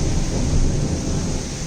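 Thunder rolling through steady heavy rain, a dense continuous roar of falling water with a deep low rumble underneath, loud and unbroken for the whole short stretch.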